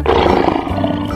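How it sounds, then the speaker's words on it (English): A lion gives a single loud, close, brief roar that swells quickly and then tails off, heard alone without talk. "Lion."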